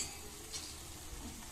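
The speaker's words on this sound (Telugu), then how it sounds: "మునగాకు అనేది మంచిగా ఆయిల్లో డీప్ ఫ్రై కావాలి మంచిగా" Drumstick leaves deep frying in oil for chutney, a faint, even sizzle with a light scrape or two, brief and quiet with no voices.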